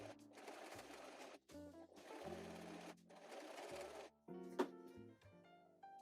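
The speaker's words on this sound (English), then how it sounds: "my sewing machine was not a fan of sewing curves on something so bulky" A sewing machine runs in stop-start bursts while stitching concentric curves through a bulky Edwardian bustle pad, its motor whirring close by with short pauses and a faint click between runs.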